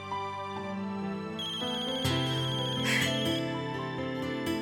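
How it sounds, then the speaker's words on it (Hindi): A mobile phone ringtone plays steadily and fairly quietly on its own, a looping electronic melody in a home setting. "नाम लिया और फोन आया।"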